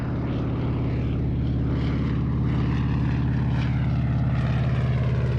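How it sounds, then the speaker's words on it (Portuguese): A Canadair firefighting water-bomber flies over the dry Mediterranean coast of France, its propeller engines making a loud, close, continuous droning roar with a steady throbbing pulse throughout. "Estes são Canadair. Eles recolhem água do mar sem nunca aterrissar."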